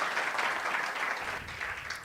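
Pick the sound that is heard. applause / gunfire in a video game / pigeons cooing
applause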